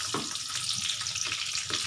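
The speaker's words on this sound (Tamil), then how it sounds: "இந்த வெங்காயம் வதக்கிறதுலையே நான் கொஞ்சம் உளுத்து போட்டுக்க போகிறேன்" Onions with urad dal sautéing in a pan for a Tamil chutney, a steady close sizzle and frying hiss with faint stirring scrapes throughout, no voices.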